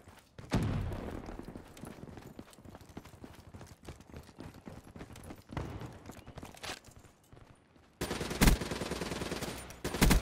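Rapid gunfire bursts from the video game Black Ops 3 during organized team play, with a dense crackling volley at the start, scattered shots through the middle and a loud sustained burst near the end.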